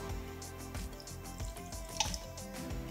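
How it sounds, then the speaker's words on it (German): A little water splashes into a hot pan of sautéed vegetables, mushrooms and soured cream, giving a short, close gush and bubbling sizzle with no talk. "Ein wenig Wasser zugießen"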